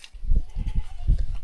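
A goat bleats in a village yard in Gorkha, Nepal, where firewood is stacked: a few short, low, rough calls close by, with no talk.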